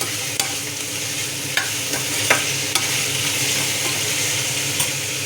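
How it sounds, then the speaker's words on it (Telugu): Chopped onions fry in hot oil with a steady, loud sizzle, punctuated by several sharp clicks and scrapes of a spoon stirring them in the pan. "ఆనియన్స్ అన్నవి ఆయిల్లో మంచిగా ఫ్రై అయిపోయింది"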